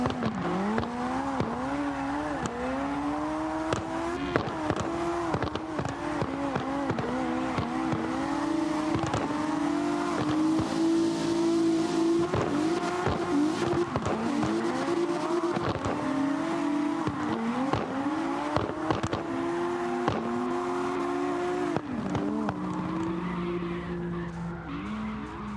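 In a drifting video game, a 955-horsepower car slides with continuous squealing tires and a rising and falling engine note, repeated across many long skids, with no talking.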